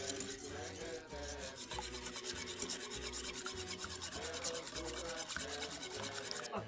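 Whisk beating a yeast mixture for Ukrainian paska in a bowl, a fast continuous rhythmic scraping and rubbing that stays steady and close for the whole stretch, with no talking.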